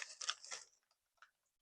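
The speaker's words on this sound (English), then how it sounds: "It's crunchy, crispy, and it has a pretty strong garlic flavor" Crisp crunching bites and chewing of Guriru spicy garlic chips, a few loud crunches up front then fading, sparse chews, close and quiet otherwise.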